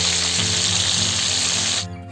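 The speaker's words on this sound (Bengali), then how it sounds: "কারি বানানোর জন্য মাংসগুলো ভেজে নিতে হবে।" Chicken pieces frying in hot oil for a village-style curry give a loud, steady sizzle that runs continuously, then cuts off abruptly near the end, leaving a quieter hum.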